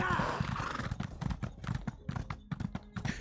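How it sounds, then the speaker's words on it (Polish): Horse hooves clip-clop in a steady galloping rhythm while riding in the video game Elder Scrolls Online, the close, fairly loud beats repeating throughout over a background wash. "Jedziemy na koniku."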